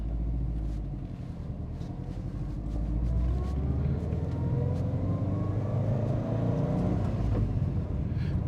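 A restored Subaru Impreza GD STi pulls away from a parking lot in first gear, its engine giving a steady low rumble that rises gently as the car accelerates. The sound stays continuous and close throughout.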